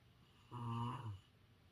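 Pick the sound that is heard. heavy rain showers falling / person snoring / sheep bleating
person snoring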